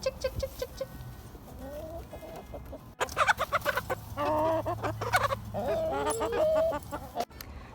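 Hens clucking and squawking close by in a frosty-morning backyard coop, a busy overlapping run of calls with some louder bursts and a brief pause near the three-second mark.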